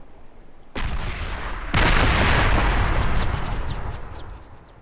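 A helicopter crashes onto rock in the Crysis video game, with a sharp blast followed a second later by a heavier, louder explosion whose deep rumble lingers and slowly fades.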